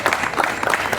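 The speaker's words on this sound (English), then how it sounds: "Oh, keep that applause going." A crowd at a mayor's award ceremony and ribbon cutting in a memorial hall applauds loudly and steadily, the claps dense and close, with a few voices mixed into the noise.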